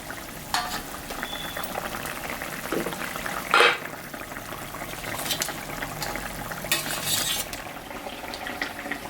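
Fish dropped into a boiling curry and stirred in the pan, bringing a steady simmering, bubbling sizzle with a few utensil clinks and a sharper splash burst partway through, and no talking.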